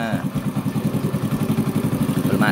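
A Honda Astrea Grand motorcycle engine runs after starting, a close, steady rhythmic putter with light mechanical clatter, idling evenly throughout.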